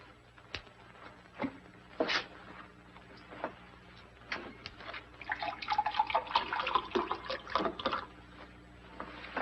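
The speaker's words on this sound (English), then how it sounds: "Would you pour some water in here, please" Water is poured into a glass in an old television drama scene, with a few scattered clinks and knocks followed by a burst of close, splashing pouring that trickles off toward the end.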